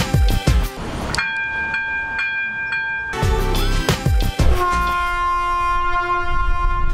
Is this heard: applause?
no